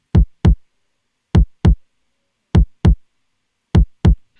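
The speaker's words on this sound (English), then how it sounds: "So now all 4 of these kicks sound like this." Four layered rock kick drums hit together, repeating in a looping pattern of paired thumps separated by short gaps, with a solid low-end body and a crisp attack.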